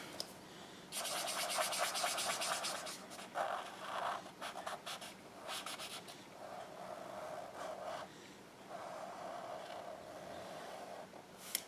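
Markers scratch and swish across paper as colours are laid down and blended in close, intermittent strokes of varying length, with short pauses between bursts.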